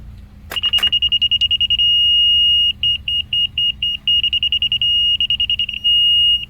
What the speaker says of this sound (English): We want to bring this up till she starts beeping.